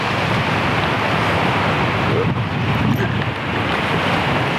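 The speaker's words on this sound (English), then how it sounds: "I'm not entirely sure how crisp the audio is going to be today because it's pretty windy where we are" Steady, loud wind buffeting the microphone, a continuous low rumbling roar with no voices, holding throughout.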